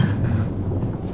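A low, heavy rumble of thunder rolls through the video game Slender, a deep continuous roar with no voices over it, loud and sustained for its whole length.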